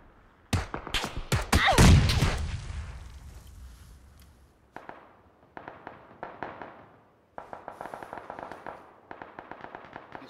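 A grenade blasts in a PUBG match, a loud booming burst followed by sharp crackling gunfire pops that trail off, then scattered bursts of shots at moderate distance.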